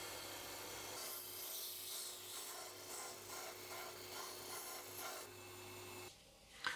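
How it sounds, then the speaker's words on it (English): A disc sander smooths roughly cut scrap wood egg cups, giving a steady abrasive rasping with a constant motor hum that runs for about six seconds before easing off. "I can then clean them up using the disc sander"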